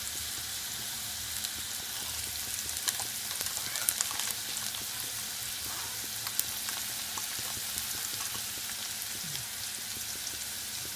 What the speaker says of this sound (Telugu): ఉల్లిగడ్డలు దోరగా ఫ్రై అయిన తర్వాత